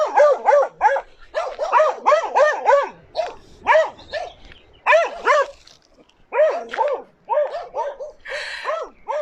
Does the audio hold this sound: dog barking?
yes